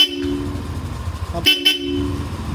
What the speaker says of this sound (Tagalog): Busina yung pogi.